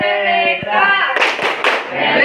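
A group of students clapping in a classroom, a few sharp, loud claps in quick succession following a voice that speaks at the start.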